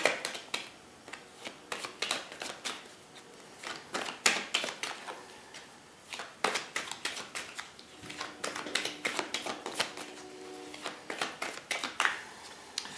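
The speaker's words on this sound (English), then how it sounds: "I feel like the cards are almost done. We're almost done shuffling here." Tarot cards are shuffled by hand in quick bursts of crisp, close riffling and slapping, with short pauses between runs, quiet and with no voices.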